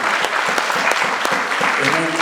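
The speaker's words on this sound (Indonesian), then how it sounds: "Coba uji coba tepuk tangan sekali lagi." An audience at a stand-up comedy show in Tanjung, South Kalimantan, claps loudly and continuously in a short burst of dense applause.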